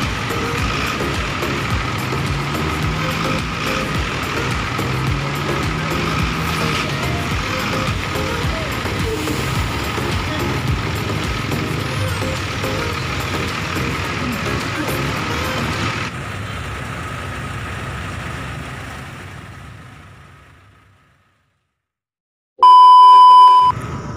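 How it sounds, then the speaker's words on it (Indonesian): Buses manoeuvring forward in the cramped Lembang Ciledug bus terminal, a heavy engine rumble that holds then fades away, followed by a short burst of sharp electronic beeping. "Alhasil bus Mujijaya disuruh maju dulu supaya Dramas bisa maju"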